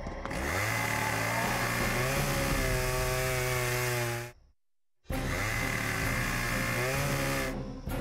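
A chainsaw runs at a steady, loud, buzzing whine, cuts out abruptly for a brief silence, then starts again at the same pitch.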